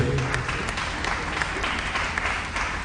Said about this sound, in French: Nous acclamons pour la parole de Dieu.